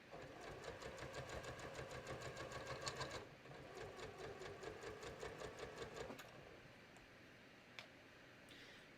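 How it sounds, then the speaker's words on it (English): A sewing machine stitches a knit strip in a quick, even mechanical rhythm, pauses briefly, resumes, and then slows to a stop with a few faint clicks. "You cannot sew full blast with this thread."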